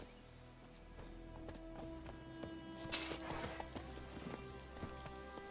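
Roach the horse in The Witcher 3 trots with steady clip-clopping hooves, close and fairly loud, repeating in an even rhythm over a low ambient game backdrop with a brief whinny-like burst midway.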